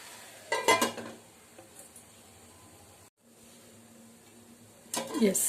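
Dill leaves hiss softly in hot oil tempering while a spoon stirs and scrapes the pan, with louder bursts of stirring at the start and end.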